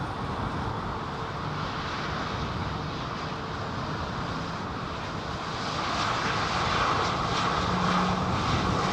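A Virgin Airbus A350 XWB jet arrives with a sustained, loud engine roar that holds steady and then strengthens slightly toward the end, with no speech.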